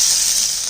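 Finely chopped onion sizzling in a spoonful of hot oil in a pan, a bright steady hiss, close and loud, over a brief moment.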